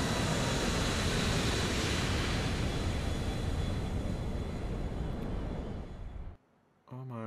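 A jet airliner roars in GTA IV: The Ballad of Gay Tony, a loud sustained engine wash that fades near the end before someone speaks.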